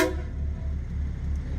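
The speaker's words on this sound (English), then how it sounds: "I'm gonna hit the train horn button here." Train horn button on a 2022 RAM 2500 Laramie truck, a loud steady blaring tone sounding continuously through the whole short burst, close up.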